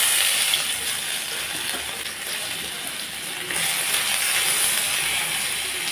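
Dry chilli, cumin seeds, bay leaves and grated ginger sizzling in hot oil in a pan, a loud, steady, bright hiss close by that swells slightly halfway through, with no talking.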